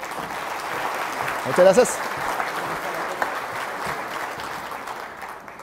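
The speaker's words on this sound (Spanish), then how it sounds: "un aplauso para ella, por favor." An audience at a business and technology panel applauds steadily, with someone briefly speaking over the clapping partway through.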